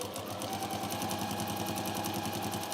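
A sewing machine stitches down the double-sided edge of a fabric pouch, running steadily and closely with a fast, even mechanical rhythm from start to finish and no voices.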